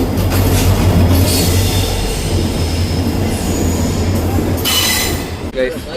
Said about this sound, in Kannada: ಟ್ರೈನ್ ಬಿಡ್ತು